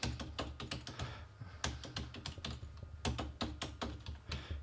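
Someone types on a computer keyboard in fast, uneven bursts of crisp key clicks close to the microphone, with short pauses between runs and no voices over it.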